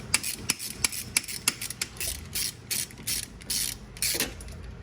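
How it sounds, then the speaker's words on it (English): Ratchet clicking in repeated short bursts while turning a bolt during rack and pinion replacement on a 2010-2013 Range Rover L322, close and crisp with an uneven rhythm of strokes and no speech. "I can still use the ratchet."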